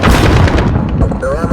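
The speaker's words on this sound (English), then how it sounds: "Grenade out." Grenade detonating in a first-person shooter game during a domination match, a loud, dense, booming blast that fills the whole short moment with rumbling crackle.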